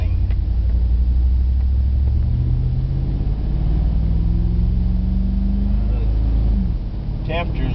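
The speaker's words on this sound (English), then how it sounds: "this old truck will go over it okay without using any gasoline." An old 1992 Dakota truck running on a wood gasifier instead of gasoline gives a loud, steady low engine rumble with a slowly rising drone, and a faint squeak near the end.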